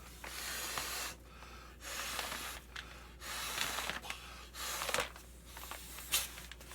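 Someone blows several quick, forceful breaths into the valve of a Klymit inflatable sleeping pad, each puff a short breathy rush separated by brief inhales, close to the mic and fairly quiet.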